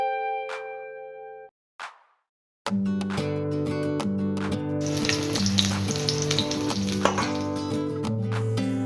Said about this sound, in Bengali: ওই তেলের মধ্যে এবার আমি বেগুনগুলো ভেজে নিচ্ছি